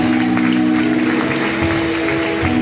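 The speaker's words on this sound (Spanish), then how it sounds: "¿Cuánto le dan un aplauso al Señor?" A church congregation applauds the Lord, scattered clapping heard under a loud sustained organ or keyboard chord with humming tones carrying through.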